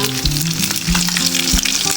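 Steady, loud sizzling and crackling of snakeskin gourami frying in a hot pan over medium heat, with occasional soft scraping, no voices.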